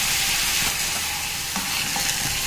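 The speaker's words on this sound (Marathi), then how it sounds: "आपण हे जे दही घेतलं होतं ते आपण आता टाकून घेऊया." Yogurt goes into a hot pan and is stirred through the cooking mixture, giving a loud, steady sizzle and frying hiss with soft stirring scrapes throughout, close and with no talk.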